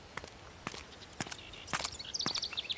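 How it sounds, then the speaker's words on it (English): Footsteps approach on a hard surface, with sharp irregular steps growing louder and denser toward the end, alone without voices. "Footsteps."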